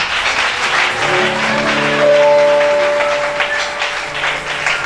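Church congregation at a Wednesday worship service applauding, a steady, loud wash of many hands clapping together for several seconds, with faint sustained tones beneath.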